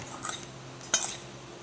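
A utensil clinks and scrapes twice against a bowl while blue marlin fish is mixed with garlic salt and white pepper, short close knocks with quiet pauses between.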